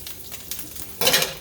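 Breakfast sausage frying in a pan, a steady low sizzle that flares into a brighter, louder crackle in the final moments.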